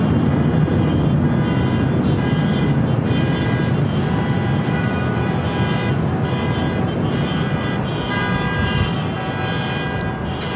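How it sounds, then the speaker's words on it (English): An Emirates A380 takes off at Los Angeles airport, heard as a steady, broad, heavy jet roar that holds for the whole stretch and fades slightly toward the end, with no voices. "Emirates A380 Super heading up here for north side at takeoff."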